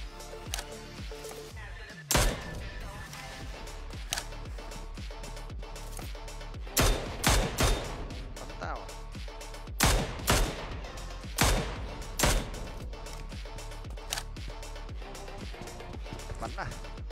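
Bursts of gunfire ring out during a PUBG Mobile match on a desert map, sharp shots and short rapid volleys spaced irregularly, some loud and close, under someone talking.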